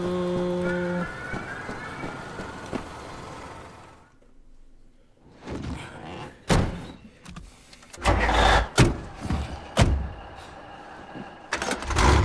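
Truck engine and door sounds in the Wolfenstein: The New Order video game, with a quieter stretch followed by a series of loud, sharp thumps and bangs over a rumbling engine.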